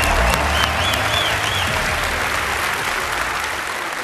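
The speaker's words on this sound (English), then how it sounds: "If you would, another round of applause" Loud audience applause at the Bethesda E3 2015 press conference, with clapping and some cheering, steady and full, tapering slightly at the end.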